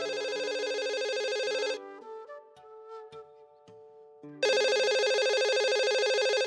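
A loud electronic ringtone plays, pauses for a few seconds with quieter tones, then resumes at full volume before cutting off.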